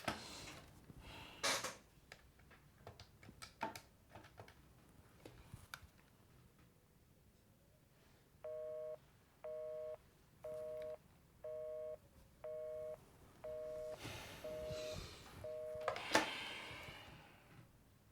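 A telephone call fails and the line gives a faint repeating busy tone, about eight evenly spaced beeps, preceded and followed by soft clicks and handling noises.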